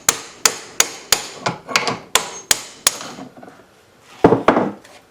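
A sledgehammer pounds a Reed 105 vise under repair: about eight sharp, ringing metallic blows land at a steady rhythm, followed by a pause and two more heavy strikes, loud and close with no talking.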